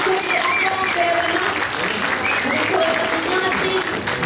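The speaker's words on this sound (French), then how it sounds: "Applaudir bien fort, s'il vous plaît." Audience applause at a cosplay contest results ceremony, a dense steady wash of clapping filling the whole stretch, with voices and faint music tones running underneath.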